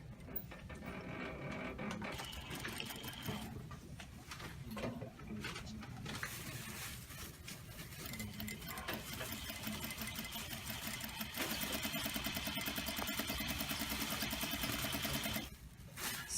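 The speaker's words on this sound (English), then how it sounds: "But here with my twill today, I will just machine stitch." A sewing machine stitching twill bias tape at regular stitch length, a close, steady mechanical whir and rapid needle clatter running in long bursts with short pauses between runs.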